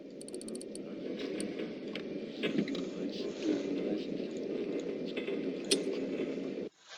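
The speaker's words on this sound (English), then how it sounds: "I'm going to move my AOB needle over to the starboard side" Mechanical ratcheting clicks from the angle-on-bow needle being turned on the torpedo data computer in Silent Hunter 3, set over a steady, droning submarine interior hum that runs until a sudden cutoff near the end.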